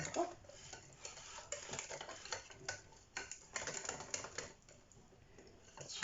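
Close, irregular scraping and stirring strokes of basbousa (semolina cake) ingredients being mixed together in a bowl, with soft clinks as the utensil works the batter.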